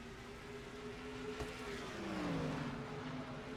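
Race cars drone around the track in a NASCAR-style racing video game, a steady engine hum with a pitch that bends downward as a car passes, fairly faint and continuous with no voices.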